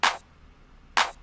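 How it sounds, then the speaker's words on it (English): Electronic clap samples for a tech house drum pattern, two short, bright, noisy snaps about a second apart, isolated over near silence. "The claps sound like this,"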